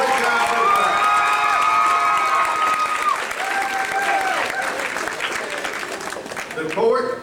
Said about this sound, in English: Let's give the entire court and Mr. and Ms. RHS a big round of applause